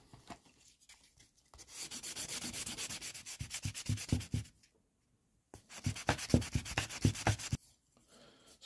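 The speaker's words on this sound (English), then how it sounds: "And just get some sandpaper." Sandpaper rubbed by hand over a blackwood guitar part, two bursts of brisk rhythmic back-and-forth scratching separated by a pause, close and fairly quiet, no talking.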